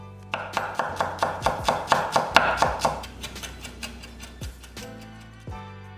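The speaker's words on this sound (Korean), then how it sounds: "통마늘 4개는 다져서" Whole garlic cloves are minced with a kitchen knife on a cutting board: a quick run of crisp, even taps that speeds up and then slows into a few scattered chops, close and clear.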